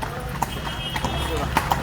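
Horse hooves clip-clop on the road as a horse pulls a carriage through Alexandria, a few sharp, close hoof strikes spaced irregularly over street noise, with people talking.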